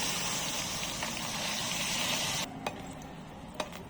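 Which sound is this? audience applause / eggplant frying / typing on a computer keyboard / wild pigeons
eggplant frying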